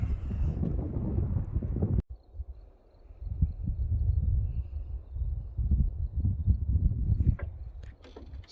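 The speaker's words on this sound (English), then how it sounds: "Still a little wind" Gusty wind moves through a forest and buffets the microphone with low, uneven rumbling surges. There is a sharp cutoff near the two-second mark, then the wind swells again.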